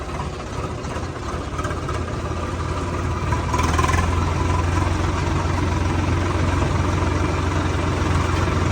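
A tractor engine runs in third gear on a rural road past potato and maize fields, a steady loud low drone with a rougher, slightly louder rumble midway that holds to the end.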